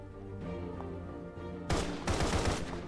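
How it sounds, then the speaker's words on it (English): Gunfire in the video game Path to Nowhere, loud bursts of rapid shots crashing in twice over a soft sustained musical backdrop. "Bullets erupt from the barrel"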